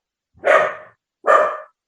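A pet dog gives two short, loud barks, evenly spaced and close by, with silence between them and no talk.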